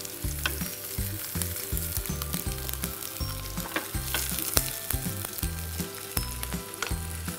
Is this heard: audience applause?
no